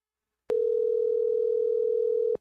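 A phone call placed over Bluetooth sounds a single steady tone lasting about two seconds, clean and constant, starting and stopping with faint clicks.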